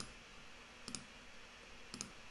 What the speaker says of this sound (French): Ma souris clique sur rien du tout.